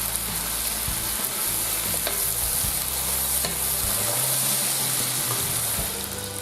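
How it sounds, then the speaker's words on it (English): Onions frying in a pan for Creole sausage rougail give a steady, close sizzle with stirring scrapes and occasional clinks, loud and continuous throughout. "After 10 to 15 minutes we're going to add our onions"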